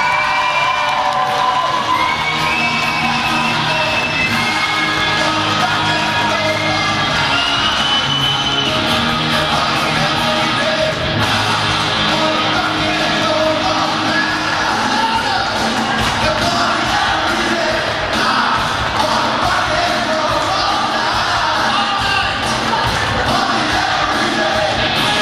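A crowd at a Czech school graduation ceremony claps and cheers for a graduate, continuous loud applause mixed with whoops and excited shouting that never lets up.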